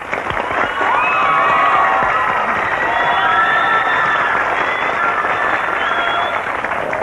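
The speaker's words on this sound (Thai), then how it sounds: "ขอเสียงปรบมือต้อนรับเธออีกครั้งเพื่อให้เธอเดินมานั่งตรงนี้ในฐานะแขกรับเชิญในวันนี้ครับ" A television studio audience claps and cheers loudly to welcome a guest onto a Thai Sunday-night show, with shouts and whoops rising over continuous applause.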